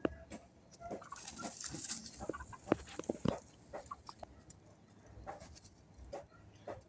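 Two hens and a rooster cluck softly and intermittently close by during a dust bath, with scattered scratching and faint rustling in a quiet yard.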